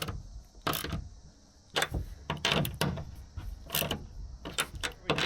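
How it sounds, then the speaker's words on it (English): A ratchet strap on a tie-down inside an enclosed trailer is cranked in several separate bursts of clicking, each short and fairly close, with quiet gaps and light knocks between pulls. "I just double check it with the ratchet here."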